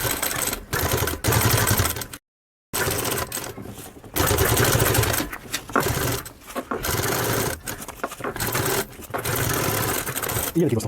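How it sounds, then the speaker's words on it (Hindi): Sewing machine stitching elastic onto fabric in loud, fast whirring bursts, broken by a brief silence and several short pauses, with someone talking alongside. "अब आपने यहाँ से सिलाई स्टार्ट करना है।"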